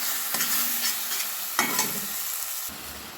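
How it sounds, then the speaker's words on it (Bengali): Ground spices with tomato stir-fried in oil over a medium gas flame make a dense, continuous sizzle broken by a few scraping strokes of a spatula, close and loud with no talking. "গ্যাসের ফ্লেম মিডিয়ামে রেখে মশলাটা আমি 4 মিনিট সময় ধরে আমি কষে নেব।"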